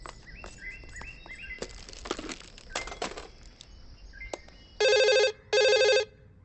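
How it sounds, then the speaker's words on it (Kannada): Amid a comedy film scene, a telephone rings in two sharp, loud bursts near the end, following a stretch of quieter scattered sounds. "ಹಾ, ಫೋನ್ ರಿಂಗ್ ಆಗ್ತಾ ಇದೆ."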